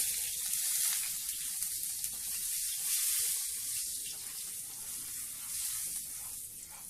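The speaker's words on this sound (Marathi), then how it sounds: "ही लसणी घालूया आपण" Garlic frying in a pan, a faint steady sizzle with soft hiss carrying through the whole moment, no voices over it.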